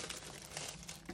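Shrink wrap plastic being folded over the back of a laser-cut acrylic piece, a faint, close crinkling and crackling that runs steadily for about a second with no voices.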